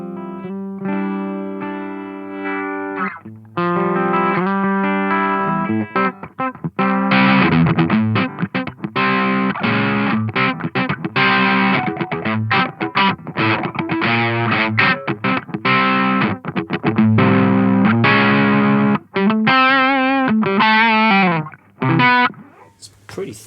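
Epiphone Sheraton guitar through a Turner Electronics QGS 800, loud distorted chords and riffs with echo, played in choppy bursts and bent notes, ending in a faint tail.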